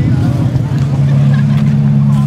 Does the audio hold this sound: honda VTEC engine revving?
yes